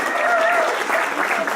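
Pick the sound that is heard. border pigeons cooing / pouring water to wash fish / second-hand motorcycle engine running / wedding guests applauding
wedding guests applauding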